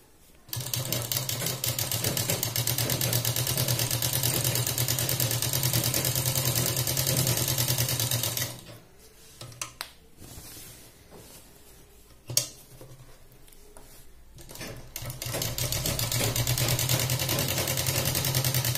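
A sewing machine runs in a long steady whirring stitch along a trouser pocket, stops for a stretch of quiet handling with one sharp knock, then starts up again for another continuous run.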